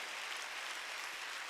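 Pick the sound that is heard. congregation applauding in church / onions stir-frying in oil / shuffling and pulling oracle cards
congregation applauding in church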